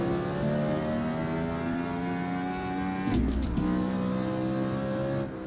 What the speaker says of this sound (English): Revving out the engine there to get past them.